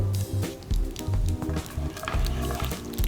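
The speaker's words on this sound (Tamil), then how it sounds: "கடுகு எண்ணெயில் நல்லா பொறிஞ்சி வரணும்" Mustard seeds splutter in hot oil in a pan for a South Indian tempering. Sharp, irregular pops and crackles come close-up over low, muffled thumps.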